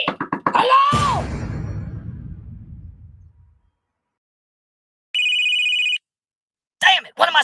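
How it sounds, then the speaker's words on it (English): A telephone gives a single loud electronic ring lasting about a second, between bursts of speech and a pause. "what am I supposed to do when the phone rings?"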